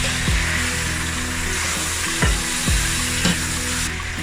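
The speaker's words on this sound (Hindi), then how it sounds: "ऑयल में अच्छी तरह फ्राई करेंगे।" Steady, loud sizzling of chicken frying in hot oil, with a few clinks of a utensil stirring the pan.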